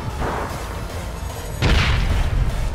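Grenade blast in an online multiplayer shooter match, a single heavy booming explosion that hits partway through over steady game ambience, with a low rumbling tail.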